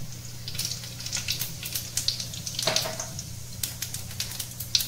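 Cumin seeds crackle and sizzle in hot oil after coconut has been fried, a steady bright spitting hiss with scattered sharp pops over a low background hum.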